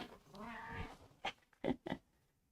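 A house cat meows several times up close, in short rising calls rather than under speech.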